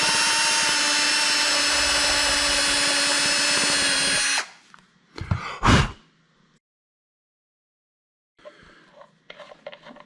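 A power drill runs at high speed, driving a test bolt through wood joinery. The loud, steady whine stops abruptly after about four seconds, followed by a few short bursts and then quieter handling sounds.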